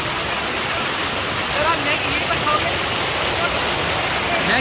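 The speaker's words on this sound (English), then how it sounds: "We are trying to sit right in front of the waterfall." Loud, unbroken roar of a waterfall close by, a dense wall of rushing water, with faint voices barely showing through it.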